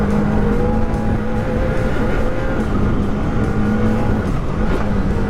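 Can-Am Maverick R side-by-side ripping around a dirt track, its engine roaring loud and steady with close, continuous drone and shifting pitch, no talk over it.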